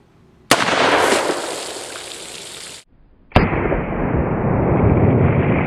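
Two sharp, loud gunshots come from a Ruger Old Army black powder revolver with a 5.5-inch barrel, loaded with 777 powder. Each blast is followed by a long hissing tail, and the shots are spaced a few seconds apart.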